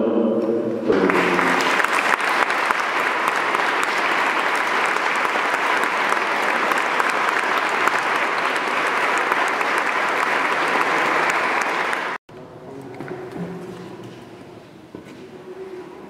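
A crowd gathered at a religious festival for the Cristo de las Mercedes in Barruecopardo applauds the new stewards, a dense, loud, sustained clapping lasting about eleven seconds that then stops abruptly, leaving a quieter murmur of voices.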